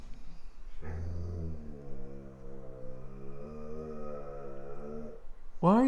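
Dogs on a hiking trail at Bryce Canyon National Park make a sustained, low, moaning growl close to the mic for about four seconds, rising and falling, with a brief sharp cry at the end.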